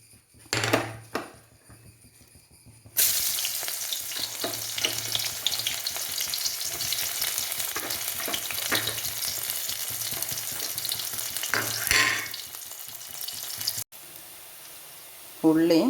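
Garlic and small shallots hit hot oil in a pan for a pork and papaya dish. After a few clatters there is a sudden loud, steady sizzle that crackles on without a break, close by.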